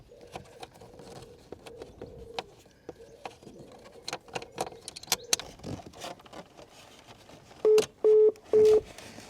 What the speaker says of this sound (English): That's the sound of my very rare smart nav system trying to make calls